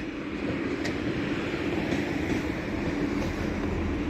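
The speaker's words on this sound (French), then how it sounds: "Et là vous avez un TGV" A TGV high-speed train leaving Montparnasse station in Paris, a steady rumbling roar of rolling wheels and carriages heard from nearby, with no talk.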